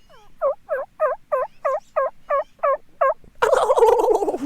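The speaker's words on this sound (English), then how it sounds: "the turkey, for instance, you know, that bird will gobble all morning long, and at the least provocation too." A wild turkey tom gobbles in a rapid series of about nine close, loud, evenly spaced calls, followed by a burst of louder, rougher noise at the end.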